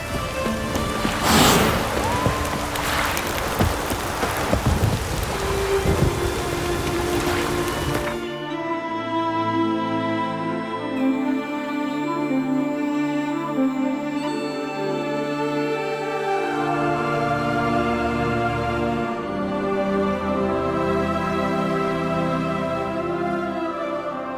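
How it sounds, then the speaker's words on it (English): Heavy rain pours steadily for the first eight seconds in The Witcher 3: Wild Hunt, dense and close, before it cuts away to a layered musical score that fills the rest. "Raining fucking buckets."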